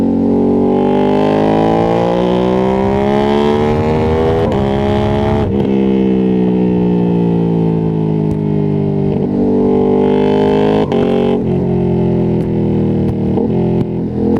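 A loud Ducati Streetfighter V2S engine drones steadily during a ride, its pitch rising and falling as it revs through gears, with quick blips on downshifts.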